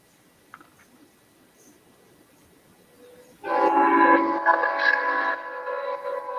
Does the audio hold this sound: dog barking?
no